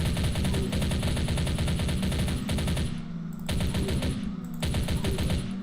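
Rapid automatic gunfire mows down waves of enemies at spawn points in a video game, a dense loud stream of shots broken by two brief pauses before the firing resumes.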